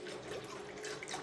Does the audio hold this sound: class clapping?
no